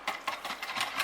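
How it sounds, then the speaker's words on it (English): Tomato sauce, Worcestershire sauce and corn flour being whisked in a bowl, a quick rhythmic scraping and clicking of about five strokes, close and moderately loud. "Whisk it all up."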